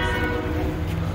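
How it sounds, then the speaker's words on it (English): Rumbling train passing near a Kmart on a road crossing, a steady dense low roar with a faint horn-like tonal band, continuous and fairly close throughout. "Oh, that's a train."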